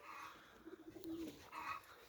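Soft, low cooing of pigeons, a few throaty calls close together against a quiet background.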